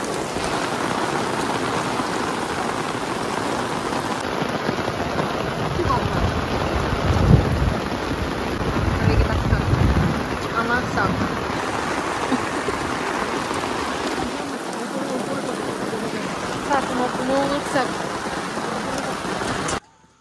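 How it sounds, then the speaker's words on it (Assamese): Heavy rain pours steadily in the hills of Darjeeling, a dense loud hiss of rainfall with a deeper rumbling swell midway, as a voice speaks over it. "এক্সপেক্টে কৰা নাছিলোঁ ইমান ডাঙৰ বৰষুণ দি দিব যে"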